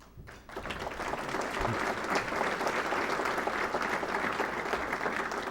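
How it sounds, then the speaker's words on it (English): Sustained applause from an evening audience as family members are introduced, a dense, steady wash of clapping that swells after a quiet first half-second and holds loud throughout. "Please hold your applause until I introduce them all."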